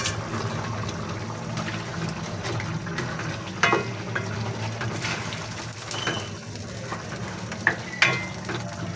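Chicken simmering with coconut milk in a pan for a liver and gizzard caldereta, giving a steady low sizzle and bubbling with a few sharp clinks of a utensil against the pan, close and continuous, with no talk.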